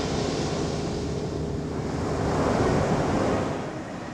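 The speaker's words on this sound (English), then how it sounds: "watch the waves come in" Ocean waves wash steadily onto a beach, a continuous broadband surf roar that swells slightly midway, with some wind buffeting the microphone and no talking.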